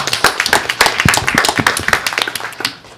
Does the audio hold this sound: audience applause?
yes